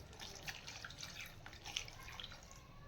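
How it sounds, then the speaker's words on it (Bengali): Faint running water and light splashing as peeled ridge gourds are rinsed, a soft steady trickle with small drips, quiet and close. "এখন জল দিয়ে খুব ভালো করে ধুয়ে নেব।"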